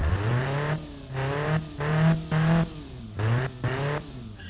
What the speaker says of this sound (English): the engine sounds better than before.